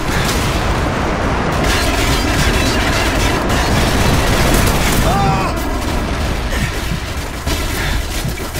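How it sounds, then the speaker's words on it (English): Airstrike explosions in Call of Duty MW3 on the Wii, a constant dense roar of booming blasts and gunfire rumbling throughout, with no spoken voice. "Friendly airstrike on the way."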